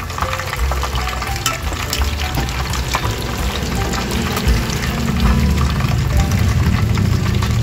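First batch of chicken frying in hot oil, a steady loud sizzle and crackle that runs on without pause and builds slightly toward the end, with no talk over it.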